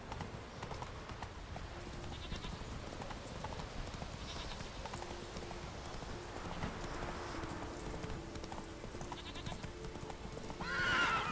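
The horse Roach in The Witcher 3 walking, with soft, steady clip-clopping hooves under a low ambient game backdrop, fairly quiet and continuous, with a brief louder swell near the end.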